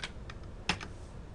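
A handful of light, quick keystrokes on a computer keyboard in a quiet room, irregularly spaced and close by.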